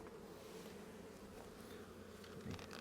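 Honey bees swarm around a hive under a floor as a queen lands among them, a dense continuous buzz holding steady close by with a slight swell near the end.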